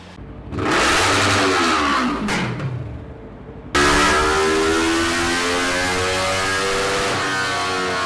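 A Yamaha R3 motorcycle with an Akrapovič aftermarket exhaust and dB killer revs hard, rising and falling, then settles into a steady, rumbling high idle with a raspy exhaust note.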